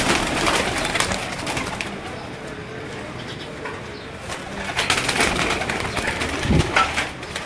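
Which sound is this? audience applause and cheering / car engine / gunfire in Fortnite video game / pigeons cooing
pigeons cooing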